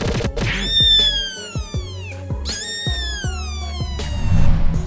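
Several cats meow and yowl in long rising and falling cries, with thumping scuffles and knocks of a fight between them, loud and close, the calls overlapping in bursts.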